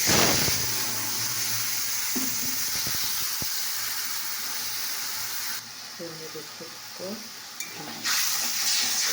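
Spiced masala with cumin, turmeric, chilli powder and salt cooks in hot oil, a steady close sizzle and hiss with brief stirring scrapes, quieting briefly before the frying swells again.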